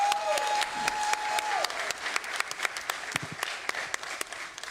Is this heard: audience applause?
yes